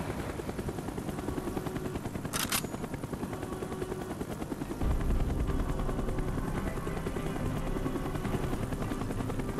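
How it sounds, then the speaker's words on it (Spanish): Helicopter in the video game Call of Duty: Black Ops, a loud steady rotor and engine roar running the whole time, growing heavier partway through, with a brief sharp burst near the start. "¡Fuera del helicóptero! ¡Salte ya!"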